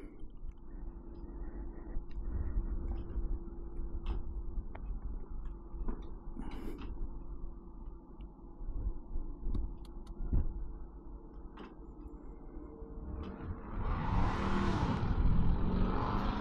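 Honda ADV160 scooter, 2025 model, engine starting and idling with mechanical ticks, then revving louder and rougher toward the end, close by.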